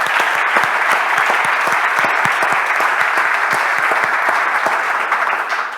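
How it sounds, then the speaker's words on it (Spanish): Sustained, loud clapping from a church congregation during a bilingual Spanish-English service, a thick continuous patter of many hands with crisp nearby claps standing out throughout. "Let's give Him a hand."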